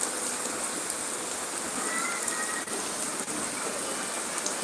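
Heavy rain pours down steadily during a windy Kalbaishakhi storm, a dense, continuous hiss of drops hitting surfaces with no talking.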